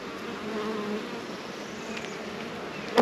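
Honey bees hum steadily around a brand-new hive built on fresh foundation, a dense, close, continuous drone with a short knock at the end.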